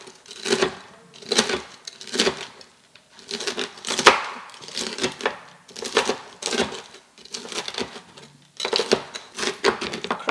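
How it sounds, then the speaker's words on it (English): Knife chopping crispy fried bacon into crumble on a board, a series of quick crunchy bursts of cutting strokes with short gaps between them, close and clear. "Cross chop it so we get smaller bits."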